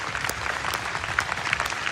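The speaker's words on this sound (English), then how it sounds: "Let's hear it one more time for Mr. Doodle." Steady applause fills a live stage event as an audience claps continuously, dense and slightly distant, with a few louder individual claps rising above the crowd.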